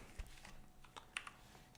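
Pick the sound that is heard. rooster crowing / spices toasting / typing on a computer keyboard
typing on a computer keyboard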